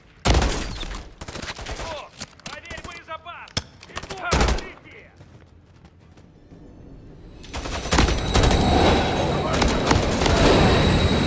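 Call of Duty Modern Warfare III combat with scattered loud gunshots and bursts, then a sustained heavy stretch of firing near the end, mixed with voices talking and other game noise.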